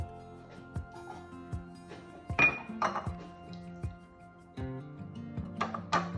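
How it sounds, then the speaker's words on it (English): A spoon clinks and scrapes against a microwave-safe bowl of oatmeal and water in irregular strokes, close by, with a faint voice now and then underneath. "in a microwave-safe bowl, combine water and oatmeal. Then, stir it well."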